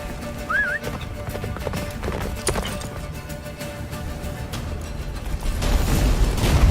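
Geralt's horse Roach gallops in The Witcher 3, a steady clip-clop of hooves running under wind and game ambience, with a brief whinny near the start and a louder, rushing surge toward the end.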